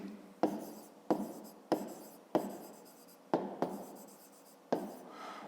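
Pen strokes during a hand-worked school maths exercise: about seven crisp, scratchy scribbles in an even rhythm, each starting with a sharp tap and fading, close and quiet, with no talking.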